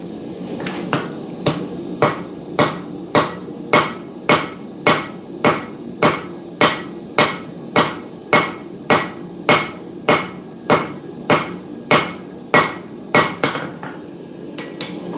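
A hand hammer taps stacked hot steel pieces on an anvil while forge-welding suminagashi-style scrap damascus, about twenty evenly spaced ringing blows close up, each sharp strike followed by a short metallic decay.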